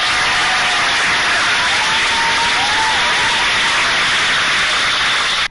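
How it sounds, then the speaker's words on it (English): Sustained applause from a large audience, a dense, even roar of clapping that continues without break before cutting off abruptly. "Oh damn, that was a long applause."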